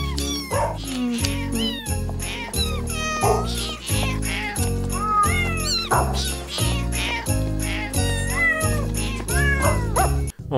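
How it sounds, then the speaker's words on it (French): Cat meows and dog barks arranged as the carol We Wish You a Merry Christmas, sampled animal calls pitched into a melody over a steady rhythmic backing beat, loud and continuous throughout. "We Wish You a Merry Christmas, entièrement composée de miaulements et d'aboiements."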